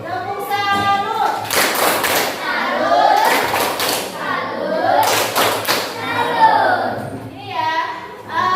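A class does a salute clap, tepuk salut: several bursts of sharp clapping from the children, with rhythmic group chanting between the claps.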